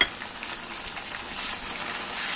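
Onion paste, green chili, ginger and garlic hit hot oil in a frying pan for a shol fish sutki dish, giving a brief, loud, continuous close-up sizzle with no talking.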